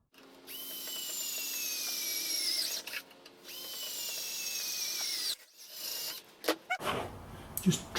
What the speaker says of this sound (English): I just have to drill